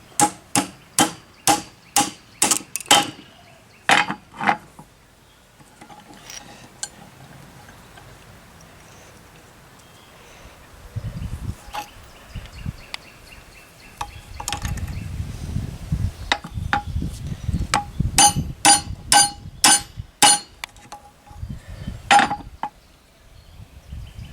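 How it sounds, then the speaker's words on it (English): Hammer tapping bearings onto a Kubota mower deck spindle, sharp metallic clinks in quick bursts at the start and end, with quieter rattling and handling noises in between, no talking. "the bearings will just tap right on to the spindle unit"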